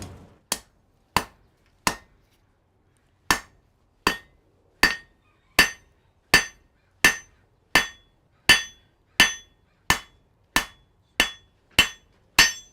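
A hammer strikes hot steel on an anvil while a leaf is forged in a smithy, about eighteen sharp ringing blows, sparse at first and then settling into a steady, evenly spaced rhythm, close and loud with near silence between strikes.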